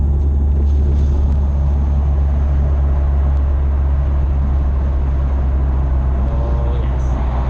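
Jaguar XE with a new exhaust rumbling through a tunnel, a loud, steady low drone echoing off the walls and holding constant from start to finish.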